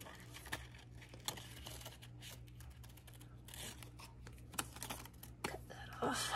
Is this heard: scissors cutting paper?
yes